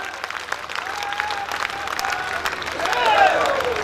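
Applause from a crowd at a humorous Hindi poetry gathering in Behror, clapping running under an amplified voice and swelling louder near the end.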